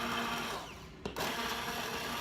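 An immersion blender whirs steadily through corn chowder soup, a loud even motor drone with a short catch partway through before it carries on.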